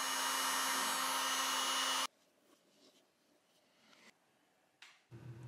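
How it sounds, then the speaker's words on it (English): A heat gun warms the butyl sealant while an E39 BMW 5 Series headlight housing is closed back up: a loud, steady blowing roar for about two seconds that cuts off abruptly, followed by faint handling clicks and rustles. "Use the heat gun again when you're closing the headlight back up to make sure that the butyl is sealed all the way around."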